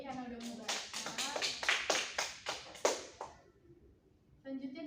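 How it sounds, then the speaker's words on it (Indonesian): A small classroom group claps briefly in a quick, uneven burst of applause lasting a few seconds, with voices just before and after. "Tepuk tangan dulu buat Ruli karena udah membaca."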